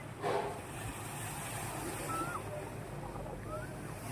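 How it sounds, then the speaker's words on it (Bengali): Strong ocean waves at Digha beach on a rough sea make a steady, broad roar of surf, with a faint gust near the start and wind noise over the microphone throughout. "প্রচণ্ড দূরে ঢেউ আসছে"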